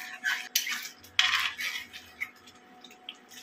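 Spoon scraping and clinking against a pan while stirring spice paste for a Bengali fish curry with fennel and katla fish, a string of light irregular metallic taps and scrapes, close and fairly quiet.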